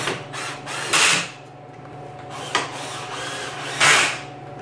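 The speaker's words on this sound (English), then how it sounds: "And then we'll put those 2 screws back in." A power driver whirs in short bursts, driving screws into the frame of a Spyker KAT 2X with snow blower attachment; three brief mechanical runs with a click between them, close and fairly loud over a faint hum.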